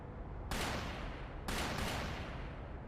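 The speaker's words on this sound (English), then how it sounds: "Gunshots! From the next district!" Two bursts of loud, booming gunfire about a second apart in the video game The Legend of Heroes: Trails Through, each with rolling echo, over a steady background rumble.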